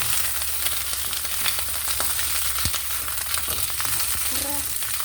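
Okra sizzling in a hot pan, a dense continuous hiss and crackle held close and loud throughout, with a faint clatter of utensils here and there.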